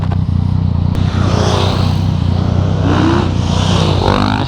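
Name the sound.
motorcycle accelerating and pulling a wheelie on the TT course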